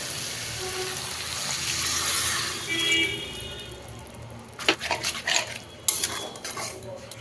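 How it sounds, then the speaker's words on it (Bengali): Water goes into a pan of simmering vegetable curry with a gushing pour and a few clinks of pots and utensils, then sharper knocks and clatters near the end. "আরও একটু জল অ্যাড করব।"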